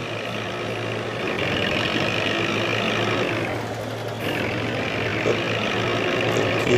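A tractor engine in the video game Farming Simulator 20 runs at a steady, loud drone with a deep low hum, briefly dipping near the middle before resuming.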